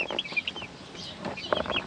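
Several chickens cluck and squawk in short, scattered calls, fairly close, with a busy farmyard background and no talking.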